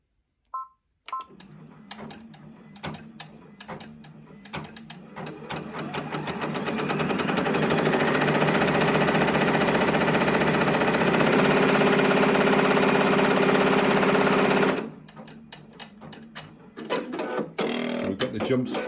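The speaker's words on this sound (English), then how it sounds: "So we're going to leave this run." An embroidery machine stitching a lettered design, starting with a few quick clicks and short bursts, then settling into a loud, steady, fast rattling hum for several seconds before stopping; a voice talks over the start and finish.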